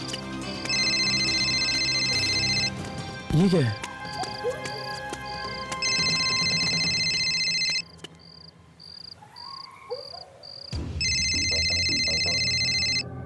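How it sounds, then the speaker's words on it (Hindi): A mobile phone ringtone repeats in three bursts from a phone lying unattended in a horror drama scene, loud and close over a cricket-like background and other eerie effects. A voice briefly asks a question. "इसका फोन यहां क्या कर रहा है?"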